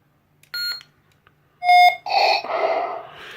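A Darth Vader Rogue One sound font plays on a lightsaber: short electronic tones, then a bright buzzing ignition that swells into a humming, wavering blade sound, close and clear with no talking.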